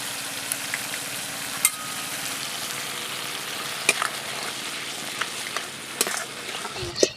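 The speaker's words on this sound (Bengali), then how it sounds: "মশলাগুলো এখন একটু ভাজা হয়ে গেছে" Spices sizzling steadily in a pan for a Bengali fish-head and gathi kochu curry, with sharp scraping and clicking stirs scattered throughout and no speech.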